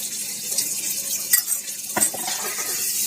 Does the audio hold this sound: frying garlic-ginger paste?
yes